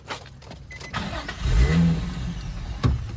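A drift car engine cranks and catches with a rising rev, then sputters and dies in a parking spot; short bursts of cranking, a brief loud surge, and a stall near the end.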